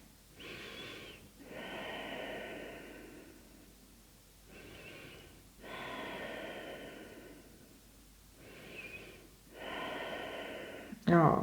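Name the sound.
deep breathing during yoga pose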